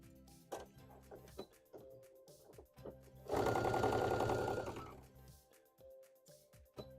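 A sewing machine stitches fabric in one loud, steady burst of about two seconds in the middle, with quiet handling noises before and after.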